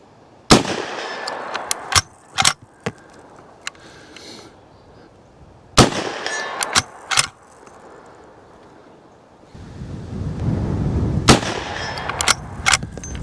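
Uberti Cimarron Model 1873 lever-action rifle fired at steel targets 100 yards out, several sharp loud cracks in spaced pairs, each shot followed by a quick ringing hit, with quiet gaps and a stretch of rustling in between.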